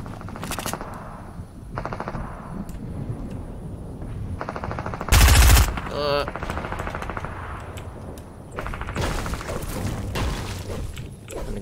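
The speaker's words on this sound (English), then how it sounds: "Where are those gunshots coming from?" Gunfire in the shooter game Nitefort: machine-gun bursts and single shots crackle through the scene, with one loud close blast midway and quieter bursts before and after.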